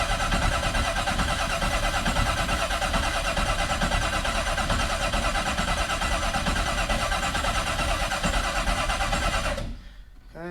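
A Corvette with a dry-sump oiling system, its starter cranking the engine continuously for close to ten seconds with a steady, loud churning drone, then cutting off abruptly into near silence.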